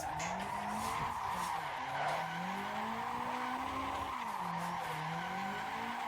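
Tires squeal continuously as a car drifts sideways in the Assetto Corsa racing game, a wavering screech layered over the steady drone of the engine, loud and unbroken throughout.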